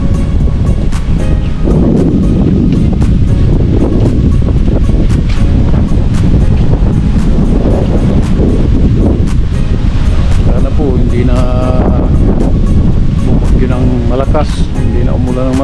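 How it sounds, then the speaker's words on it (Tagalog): Strong, constant wind from passing Typhoon Kristine roars and buffets the microphone in Pangasinan, a dense steady rush running throughout while someone talks over it. "paalis na yung bagyo rito sa amin dahil ano na, humina na po yung hangin"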